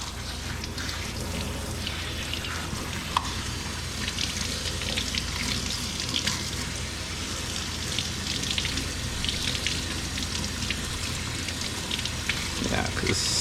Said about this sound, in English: rinse your cilantro out well.